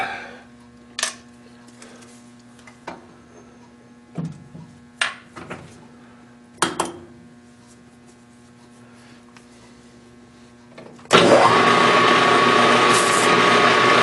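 A small carbide grinder sits quiet under a low hum with a few scattered clicks and knocks, then starts up near the end into a loud, steady, high-pitched whirring roar that runs to the close.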